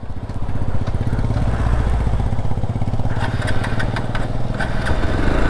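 A motorcycle engine runs steadily up close in a forest with a low, throbbing rumble; sharp clicks and rattles break in during the final seconds.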